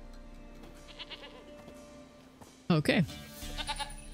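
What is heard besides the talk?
goat bleating in The Witcher 3 video game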